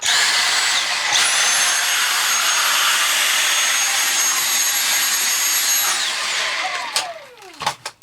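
A Dyson V6 cordless vacuum cleaner whines loudly and steadily at max power after cyclone cleaning, then spins down with a falling pitch near the end, followed by a few clicks and knocks.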